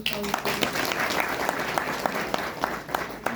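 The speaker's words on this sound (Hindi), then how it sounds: "ताली बजाओ" A seated audience at a spiritual talk claps in a dense, continuous burst, hands ringing out fairly close and loud, with a few sharper claps standing out above the crowd.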